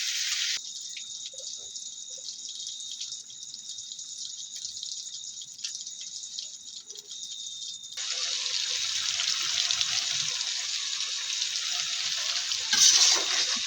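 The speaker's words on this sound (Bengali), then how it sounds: "ফুলকপি, আলু আর সিম দিয়ে ভালোভাবে কষিয়ে নেব।" Cauliflower, potato and flat beans fry in a spice paste, giving a steady hissing sizzle that drops quieter for a while, then surges louder and fuller, ending with a brief clatter; no talking.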